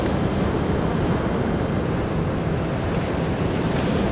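Ocean surf churned up by a tropical storm roars continuously, a dense, loud wash of breaking waves mixed with heavy wind buffeting the microphone, with no pauses.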